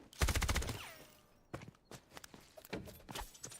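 Gunfire bursts in the Delta Force shooter game during a competitive match, a dense rapid volley at the start followed by scattered single shots and footsteps, fairly faint overall.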